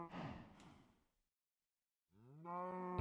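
Minecraft cows in a modded sky block world let out two distinct moos, the first a breathy, fading call and the second a strong, tonal low moo after a brief silence, both close and clear.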